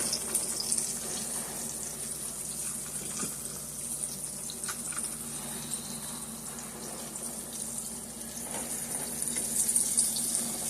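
Pork chops fry in a pan with a continuous, even sizzle and crackle for about ten seconds, close and steady, with no talking.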